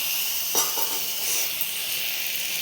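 Fried pointed gourds tipped into a hot pan of sizzling spice mix, a steady loud hissing sizzle with a brief louder crackle as the pieces land.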